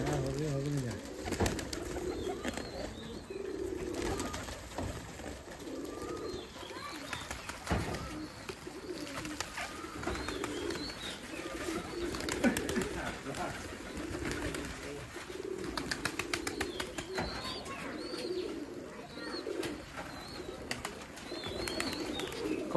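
Pigeons coo over and over at a large Giribaz pigeon farm, soft throaty calls rolling on nearby throughout, with occasional voices and handling noises mixed in.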